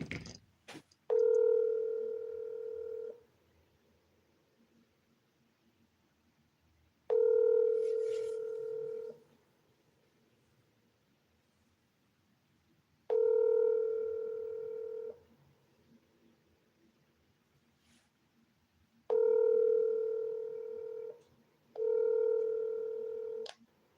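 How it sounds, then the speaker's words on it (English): Touch-tone telephone dialing with dial tones, five separate steady tone bursts spaced by quiet gaps, heard clearly and close. "Let's call Manjul"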